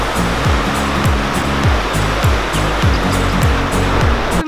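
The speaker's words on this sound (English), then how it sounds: "The ocean is so beautiful." Ocean surf rolling onto the rocky Bonaire coast, a steady loud wash of broadband noise with repeated low thuds as waves break, close by and with no talk over it.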